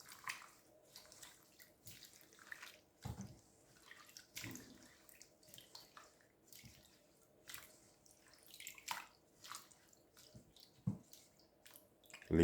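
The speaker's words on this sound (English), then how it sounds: "Add some water. By doing this, what I'm doing, I'm just washing this off, taking out the excess dirt off it." Potato peels being washed in a bowl of water, with faint sloshing, drips and small splashes in an irregular pattern, quiet and close.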